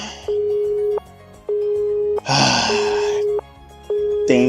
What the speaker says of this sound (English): Dang dial tone gets me every time.